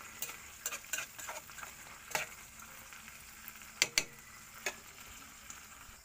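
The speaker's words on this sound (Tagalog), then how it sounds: "Lagyan na natin dyan ang ating sardinas." Sardines frying in a pan for a Filipino sardines-and-egg dish, giving a quiet steady sizzle with scattered sharp ticks and pops, a few louder crackles near the end, and no voices.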